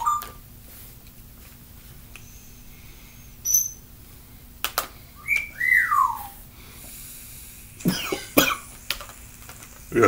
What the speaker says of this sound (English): We got choking.